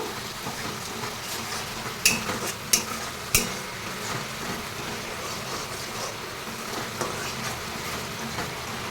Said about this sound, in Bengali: চিনিটা দিয়ে আবারও একটুখানি কষিয়ে নেব